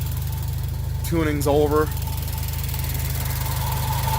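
A Subaru BRZ / Toyota GT86 engine idles steadily with a low, even hum throughout, while someone speaks briefly over it near the middle.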